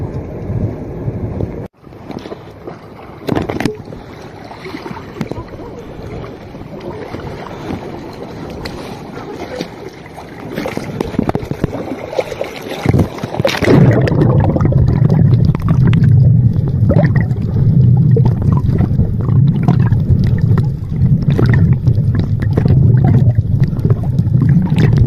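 A tour boat rides across the Red Sea off Hurghada, Egypt, with a steady engine rumble and wind buffeting the microphone growing louder and fuller partway through as the boat picks up speed, water rushing continuously underneath.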